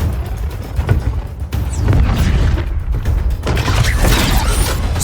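Mechanical arm cannon deploying in the Injustice 2 video game, a loud run of whirring, clanking and creaking mechanism sounds with heavy low booms, steady throughout with no speech.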